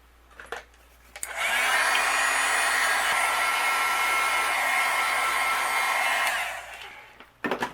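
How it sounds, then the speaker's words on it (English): A heat gun blows and whirs loudly for about five seconds as it melts embossing powder on a stamped card, starting after a few light taps and fading off, followed by brief handling knocks. "I'll use my heat gun, and we're going to go ahead and melt this."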